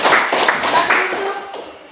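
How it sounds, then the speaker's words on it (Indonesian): A class bursting into brief applause in a classroom, close, loud clapping that fades over about two seconds, mixed with voices. "Beri aplaus dulu sama kamu"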